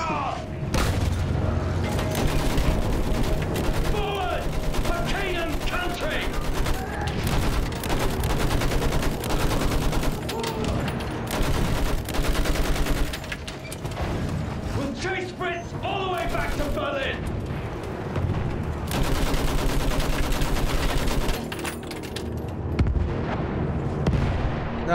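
Heavy machine gun fire and artillery booms fill a World War I trench battle in Battlefield 1, loud rapid bursts over constant rumbling explosions, with shouting voices mixed into the din.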